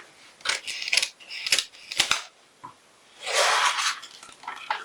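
Scissors cut out a paper bodice pattern at close range in a series of crisp snips, followed by a longer rustle of paper being handled and a few lighter snips at the end.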